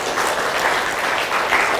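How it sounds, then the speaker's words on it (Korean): Congregation at an early-morning Sunday healing service in a Korean church claps together in praise, a brief, loud, dense burst of applause without speech. "하나님께 영광의 박수 올리겠습니다"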